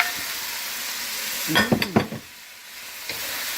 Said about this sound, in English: Now the stove is still on high, so we're gonna toss in the string beans.